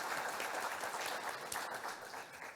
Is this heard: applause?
yes